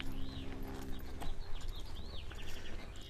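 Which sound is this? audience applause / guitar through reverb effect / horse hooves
horse hooves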